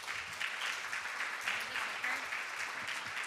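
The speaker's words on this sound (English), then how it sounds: "Let's give Farm Drop a warm round of applause" Applause from an audience at a farm food loss solutions showcase, a steady, moderately distant wash of clapping that holds evenly throughout without pause.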